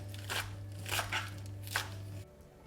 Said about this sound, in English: So I'm just using the baby spinach, and I'm just chopping it up roughly